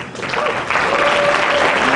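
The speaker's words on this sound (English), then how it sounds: "Big round of applause for our promoter" Brief burst of audience applause at a bodybuilding bikini competition as the promoter is introduced to present awards, dense clapping swelling slightly over two seconds with a faint voice underneath.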